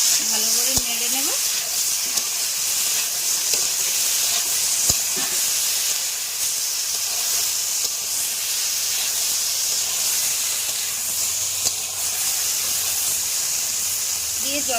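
Hilsa pieces coated with turmeric powder are stirred in a hot pan, giving a steady hissing sizzle with occasional scrapes and soft knocks.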